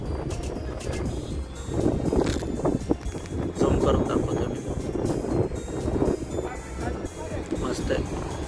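Strong wind buffets the microphone at an outdoor ghat viewpoint on a rainy-season stop near Pune, a constant rough roar that runs the whole time under a voice talking.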